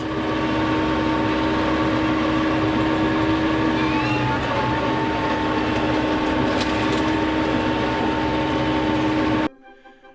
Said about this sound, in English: we're going downhill now, so a bit less revs